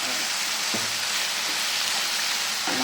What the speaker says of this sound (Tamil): மீடியம் ஃப்ளேமில் வச்சு நல்லா வதக்கணும்